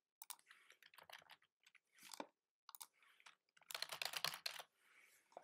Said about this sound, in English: If I type an email,